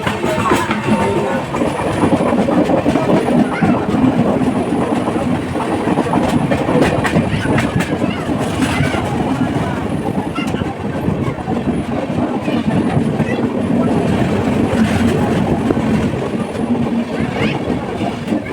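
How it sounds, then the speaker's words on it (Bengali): A 22897 Kandari Express passenger train runs steadily on its rails near Santragachi Junction, giving a loud, continuous rumble with rhythmic clickety-clack of the wheels throughout, and faint voices in the background. "ফাইনালি আমাদের ট্রেন এখন পৌঁছে গেল সাঁতরাগাছি জংশন।"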